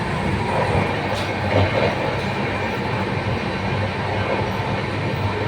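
Loud, steady rumble of a moving train heard from inside, with rhythmic clattering of wheels over the track.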